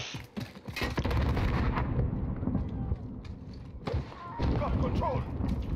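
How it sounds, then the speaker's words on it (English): A grenade blast in Call of Duty Modern Warfare lands as a heavy thud near the start, followed by another deep boom later, amid ongoing game noise with player voices and shouts mixed in. "This is the grenade."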